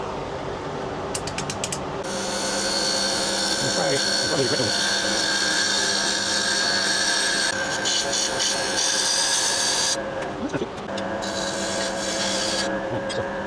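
A wood lathe cuts away the rest of a turned wooden rice bowl near its tenon, making a loud continuous raspy scraping that pauses briefly twice before resuming.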